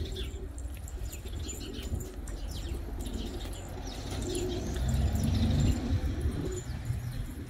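Pigeons coo in low, throaty murmurs amid scattered chirps and soft rustling, a steady outdoor bird ambience that swells slightly toward the middle.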